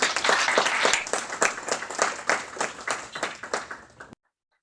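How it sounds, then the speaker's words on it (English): A moderate round of applause for two speakers at the close of a youth expo event, with distinct, rhythmic claps from a smallish audience before an abrupt cutoff into silence. "Could we please get one more round of applause for our two speakers?"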